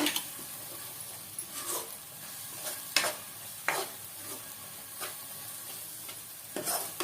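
Chili powder fries in a pan for channa masala, a steady sizzle broken by repeated scraping strokes of a spoon stirring, close and fairly loud with no talking.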